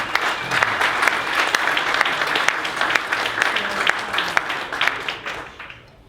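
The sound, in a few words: audience applause for speaker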